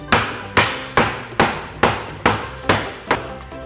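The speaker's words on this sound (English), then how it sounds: "They take their tools and they beat the board so that this new wood has a little bit of an older look to it." Hammer pounding a new wooden board to give it a distressed, aged look at a sign-making workshop, nine sharp evenly spaced thuds, close and loud, each with a short ringing decay.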